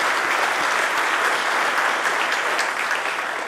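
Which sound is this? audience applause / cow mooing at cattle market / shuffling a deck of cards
audience applause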